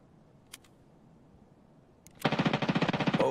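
A rapid burst of automatic gunfire in Escape from Tarkov starts suddenly after a quiet stretch with a couple of faint clicks, sounding loud and close as a fast, even stream of shots.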